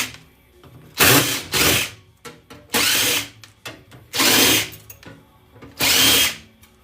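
A power drill backs screws out of an old desktop PC tower case in five loud, close whirring bursts of about half a second to a second each, separated by quieter clicks and handling noise.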